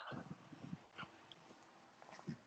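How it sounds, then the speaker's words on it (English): A small house dog whimpers and snuffles quietly, with soft scattered whines and shuffling noises close by in a room, faint and intermittent. "give me 1 second to move my little spoiled brat of a dog"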